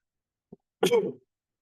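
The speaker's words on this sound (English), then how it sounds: "It makes me cough." A single close, sharp cough preceded by a tiny catch of breath, then silence.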